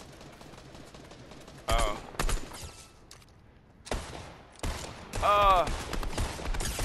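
Bursts of gunfire crack out in a Fortnite match, several sharp volleys in quick succession, loud and close, with a player exclaiming between them.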